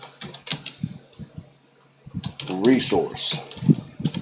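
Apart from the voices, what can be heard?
typing on a computer keyboard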